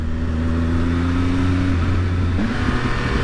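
A 2020 Triumph Speed Triple RS motorcycle fitted with an Arrow exhaust, its engine running close by with a steady droning hum that shifts slightly near the end, and no talking.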